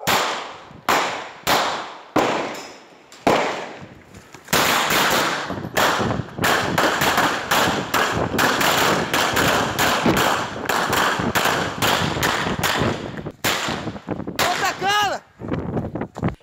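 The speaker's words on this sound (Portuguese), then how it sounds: "trocam tiros no meio da rua" Sharp gunshots ring out in scattered single cracks, then rapid sustained bursts of automatic machine-gun fire echo loudly in a street, with occasional shouting underneath.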